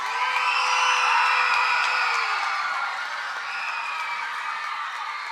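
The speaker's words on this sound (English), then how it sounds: "Give Principal Schroeder a great round of applause for all the good work she does." A hall audience at a teaching award ceremony breaks into sustained applause and cheering for Principal Schroeder, with a high whoop rising over the steady roar before it eases slightly.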